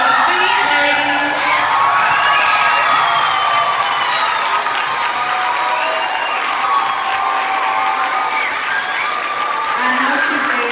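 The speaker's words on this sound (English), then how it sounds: "we have to give a real hand clap to Miss Rosa Thompson" A standing audience of women at a Black Girl Magic conference gives sustained loud applause and cheering, a dense, even roar of clapping with whoops and excited voices throughout.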